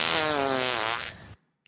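A long, loud, buzzy fart sound effect lasts over a second, then tapers off into silence, with a tiny click near the end; no voices are heard.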